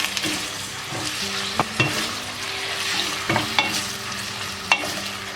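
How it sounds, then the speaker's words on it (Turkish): Roughly 150–200 grams of meat for hünkar beğendi sizzles in a pan while it is stirred until it releases its juices, with a constant hiss and occasional sharp knocks of the spoon. "Güzelce suyunu salana kadar karıştırıyoruz."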